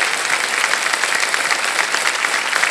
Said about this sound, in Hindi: आपके लिए हम एक बार फिर जोरदार ताली बजाना चाहें।